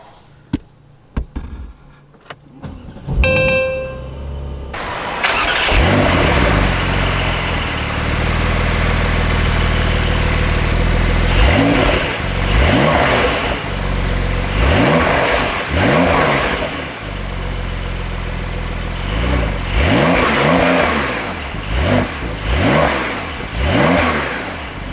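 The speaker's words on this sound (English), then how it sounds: "it's time for a warm start and some engine revs of this 4S" A 2019 Porsche 911 (992) Carrera 4S with sport exhaust engaged fires up from a warm start after a few faint clicks, then settles into a loud, deep idle broken by repeated sharp throttle revs rising and falling close by.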